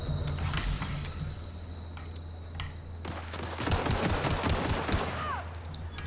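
Pistol gunfire in The Outer Worlds on hard mode, a run of rapid shots that grows denser and louder partway through, with game ambience underneath and no talk.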